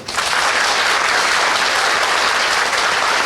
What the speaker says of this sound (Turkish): sizden özel bir alkış istiyorum